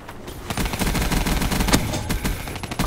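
Rapid automatic gunfire bursts in Call of Duty: Black Ops III, dense loud cracks that are nearly continuous across the stretch.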